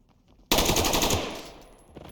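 A rapid automatic burst of rifle fire in the tactical shooter Ready or Not, loud and close, firing continuously for about a second before the shots fade and tail off.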